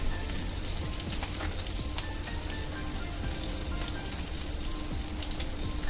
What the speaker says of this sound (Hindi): 15 सेकंड तक आलू को फ्राई कर लें